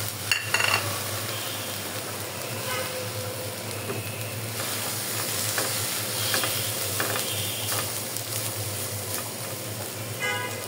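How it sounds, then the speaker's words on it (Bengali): Dried fish (shutki) fries in a pan with already-fried onions, giving a steady close sizzle broken by repeated scraping and clattering as it is stirred throughout. "শুটকিটা ভেজে নিব।"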